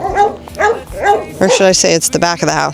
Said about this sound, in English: oh, there's their puppies. There's their puppies. They're saying hi to us.